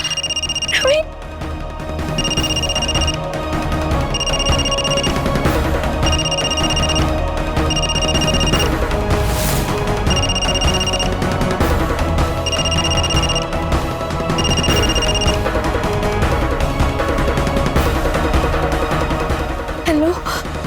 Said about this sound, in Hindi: नवीन का फोन है।